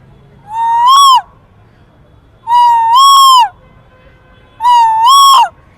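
A man whistles an imitation of an Asian koel's call, three loud, rising, ringing phrases of about a second each, separated by short pauses.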